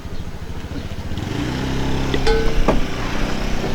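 An old motorcycle's engine chugs up close with a loud, throbbing, continuous note that rises slightly as it revs, and a couple of faint knocks sound briefly over it.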